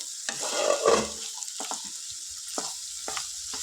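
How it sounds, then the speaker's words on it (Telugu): Broad beans fry in a pan with a gentle, steady sizzle, broken by several sharp stirring scrapes and clatters against the pan, heard up close with no talking. "వీటిని కూడా ఒక వన్ మినిట్ దాకా ఫ్రై చేసుకోవాలి"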